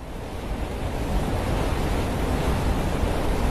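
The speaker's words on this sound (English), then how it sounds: "the sound of millions of gallons of water being discharged from a one-mile-long siphon in northwest Phoenix" Millions of gallons of water discharged from a one-mile-long siphon during a blow-off in northwest Phoenix, a loud, continuous roaring rush like heavy surf that builds slightly and holds steady.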